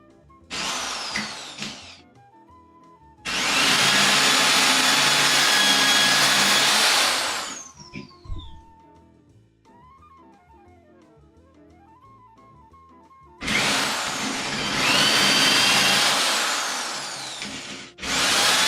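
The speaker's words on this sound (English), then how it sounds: "I'm gonna grab drill and I'm gonna do a little bit more drilling to get that depth that I want" A power drill bores deeper into a hole in wood for a table saw stand, whining loudly in two long bursts and a few shorter ones, with quiet pauses between where the motor spins down.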